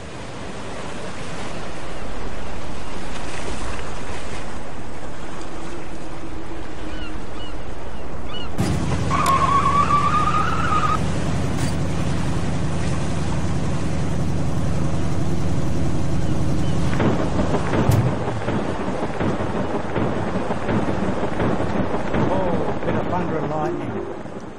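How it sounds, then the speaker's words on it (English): Surf roars continuously at Duda Beach while a rumble of thunder rolls in partway through, the broad wash of waves staying loud and close throughout with no voices. "Ooh, a bit of thunder in the backdrop there."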